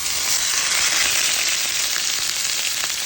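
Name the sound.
steak sizzling in hot skillet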